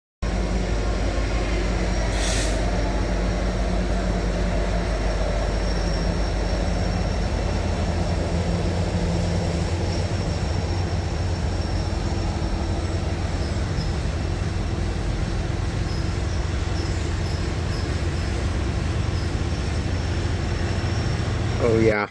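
A freight train passes close by on rails near Birmingham, meeting an intermodal train coming out of a yard: a continuous heavy low rumble of rolling wagons with steady rail noise throughout, and no voices.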